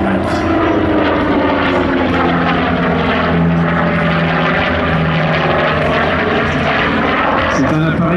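A single-engine propeller warbird roars loudly and continuously overhead at an air show, its engine drone steady throughout with a slight shifting pitch as it passes.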